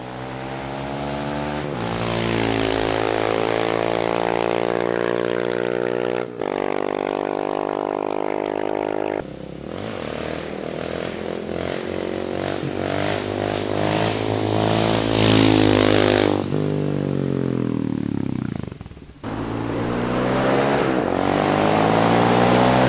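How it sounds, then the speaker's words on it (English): A Honda XR650 supermoto motorcycle engine runs and revs repeatedly, its loud close exhaust note climbing and falling through several throttle blips with brief dips between them. "here's a quick clip on how the XR650 sounds"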